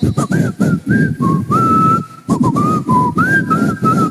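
Someone whistles a wandering tune up close, loud and clear, in short phrases with brief breaths between them.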